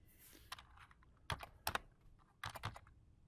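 Computer keyboard typing during a D20 MX DNP device configuration: a few quick bursts of close, crisp keystrokes in a quiet room, no voices.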